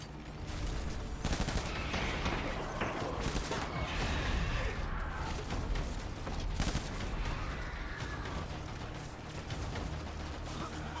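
Video-game firefight in Death Stranding, with assault rifle and handgun shots crackling in dense, continuous bursts over a constant rumbling backdrop, loud and near throughout.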